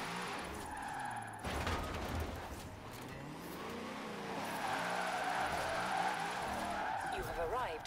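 Ferrari 599 engine droning in the Formula Drift video game, with tyre squeal and skidding as the car slides through a drift, moderately loud beneath a speaking voice.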